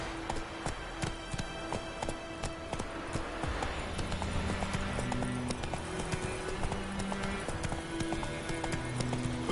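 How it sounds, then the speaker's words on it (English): A horse gallops in The Witcher 3 on PS4: quick, rhythmic hoofbeats run steadily throughout, with game music tones layered underneath. "Run, Roach"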